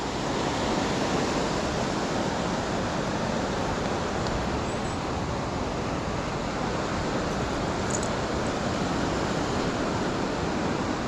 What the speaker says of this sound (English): And there's loads of fast moving rapids just down to the left there.